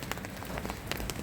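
Light rain falls steadily on a surface outdoors in Turkey, a soft patter of scattered drops without any voices.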